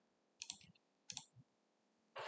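Mouse clicks on a computer during an operating-system deadlock program demo: two close clusters of sharp clicks a few tenths of a second apart, then a brief louder click at the end, quiet and near, with no talking.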